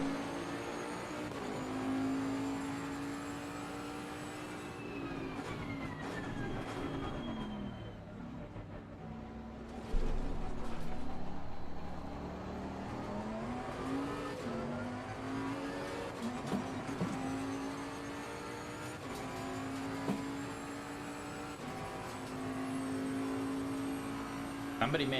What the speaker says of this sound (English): I've only been driving the Bentley in this game.